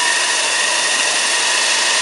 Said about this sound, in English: engine pounding along